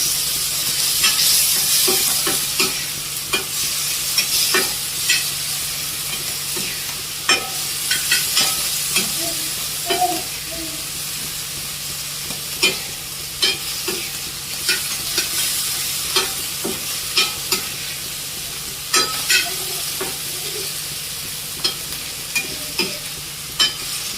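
Snail curry 65 sizzles and fries in a pan while being stirred, a steady hiss broken by frequent sharp scraping clicks of the spatula against the metal, close and fairly loud with no talk.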